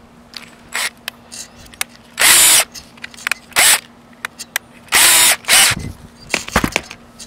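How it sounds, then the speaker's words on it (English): A ratchet tightening a bolt on a solar panel roof mount bracket, several short bursts of whirring tool noise with clicks and scrapes in between, close and distinct. "Now I put on my ratchet."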